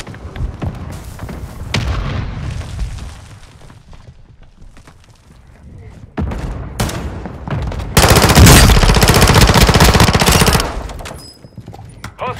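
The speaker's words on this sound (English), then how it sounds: "Mortar strike." Mortar strike in Call of Duty: Modern Warfare II, with loud, heavy booming blasts and bursts of rapid gunfire, including a long dense barrage near the end, all close and intense.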